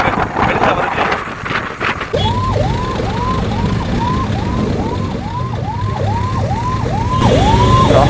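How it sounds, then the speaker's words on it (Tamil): An ambulance siren wails through traffic in a rhythmic, rising-and-falling pattern, about a dozen cycles, fairly loud and close over steady wind buffeting and road rumble. "ஆம்புலன்ஸ் வேறு போக முடியல."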